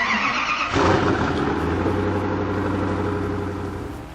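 Engine of a car driving across a desert map in the Roblox game Vehicle Simulator, a steady loud drone that swells into a throatier rev partway through and holds on.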